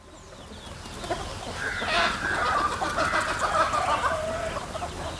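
Country chickens clucking as a flock chases a butterfly, a busy overlapping stream of close clucks and calls that swells and stays lively over outdoor background noise.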